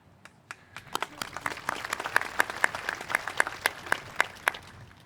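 Applause from the audience at an agriculture center grand opening: scattered claps build into a fuller round, with a few sharp, louder individual claps standing out near the front.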